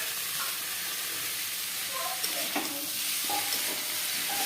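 Egg, boiled fig and potato curry with cumin, Kashmiri chilli powder and sugar stirred and sautéed in a pan, a steady close sizzle with light scraping stirs.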